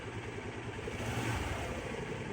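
A Honda XR150L motorcycle engine runs steadily after a CDI replacement, a continuous close mid-pitched engine drone with a slight rev swell partway through, and no talking.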